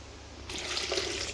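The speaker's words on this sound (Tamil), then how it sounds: "இப்போ தண்ணி வந்து பார்த்திங்கன்னா 300 ml வாட்ரு" Water poured into a chicken curry base after chili and turmeric powders, a steady trickling flow starting abruptly partway through and continuing evenly, close and moderately loud with no talk.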